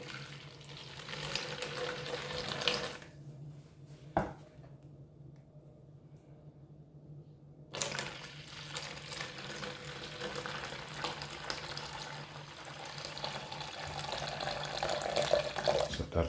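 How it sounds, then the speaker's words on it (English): Green tea poured over ice for an iced passion fruit drink makes a steady splashing, hissing pour that stops briefly midway, then resumes and runs on to the end, close and fairly loud. "gonna pour the green tea over it."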